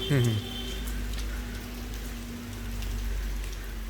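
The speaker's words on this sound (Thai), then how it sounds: "ตอนนี้ฝนตกเนาะ" Steady rain falls over a village street in Ban Phialat, Sangthong district, Laos, a continuous broadband hiss with a brief louder burst near the start and faint voices underneath.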